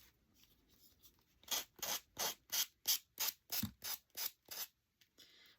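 Rhythmic rasping strokes of a sander working a small wooden cutting board, about ten even back-and-forth passes in a row, close and fairly loud, with quieter scraping before and after.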